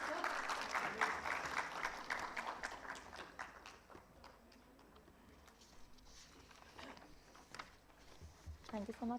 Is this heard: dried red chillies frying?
no